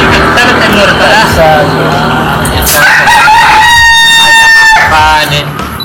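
Chickens cluck in a busy farmyard while a rooster crows loudly near the end, with people talking throughout.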